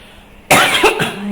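A single short, sharp cough, close and loud, after a moment of quiet.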